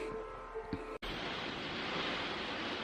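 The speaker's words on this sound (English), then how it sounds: "It's absolutely pouring down, and there's massive crashes of thunder and lightning happening." Heavy rain pouring down outside during a thunderstorm, a sudden cut into a loud, steady roar of downpour that fills the rest of the clip after a quieter indoor stretch with faint tones.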